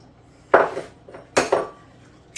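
Eggs cracked against a bowl while making farm chicken dumpling dough, sharp knocking taps in quick pairs with short gaps between them, close and clear in an otherwise quiet kitchen.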